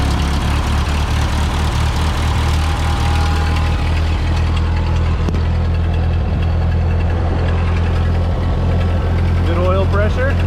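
A Ford 2N or Farmall M farm tractor engine idling just after a cold start, a loud, close, steady low chugging rumble with a person speaking over it.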